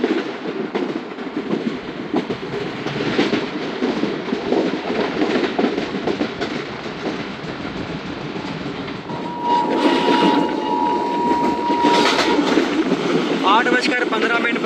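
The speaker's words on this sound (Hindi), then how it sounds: "9:15 पर दोस्तों ट्रेन हमारी अप्रोच कर रही है पटीदन जंक्शन।" The Karachi Express passenger train runs on the rails toward a junction, a steady rolling rumble with rhythmic clatter, heard from on board, with a brief tonal squeal and rattling near the end.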